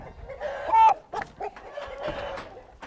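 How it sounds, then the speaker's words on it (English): A big 2.3-kilo, seven-month-old chicken clucks in a few short bursts, close and fairly loud, with people talking around it. "That's a big chicken."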